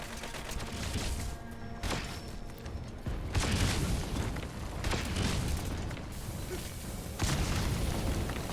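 A regular grenade explosion in Metal Gear Solid V: The Phantom Pain, heard as a series of deep booming blasts and rumbles recurring over several seconds, loud and close, with game sounds and faint voices beneath.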